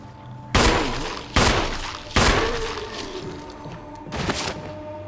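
Gunfire in the video game Resident Evil 1: three sharp shots in quick succession, each with a ringing tail, then a pause and a fourth, softer shot.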